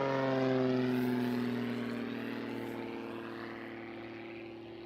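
An aerobatic propeller airplane passing overhead at a championship contest, its engine drone loud at first and then fading and dropping in pitch as power is pulled back, alone without talk.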